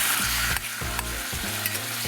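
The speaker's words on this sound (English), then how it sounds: "throw in the slice of Black Forest ham that's been sitting out all day and let it fry" Slice of Black Forest ham frying in a pan with maple syrup, a steady close sizzle with repeated bursts of stirring or scraping, no voices.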